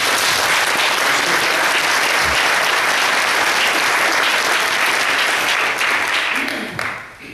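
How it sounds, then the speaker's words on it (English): An audience at a Raleigh redevelopment plan public meeting applauds loudly and steadily, a dense wash of clapping that holds for several seconds before tapering off near the end. "So one more time, give yourselves a round of applause,"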